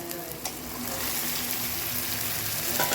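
Boiled potatoes and chickpeas sauté in a pan for ghugni with a steady close sizzle and fry. A soft stirring scrape sounds near the start. No one speaks.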